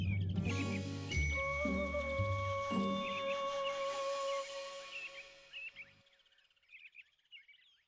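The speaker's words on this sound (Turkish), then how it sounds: "Zil sesi." A bright, ringing chime with sustained tones sounds over layered music, then fades out while faint chirps continue.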